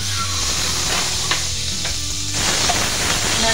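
Butter melting and sizzling in a kadai, a close, steady frying hiss with faint crackles throughout, no talk.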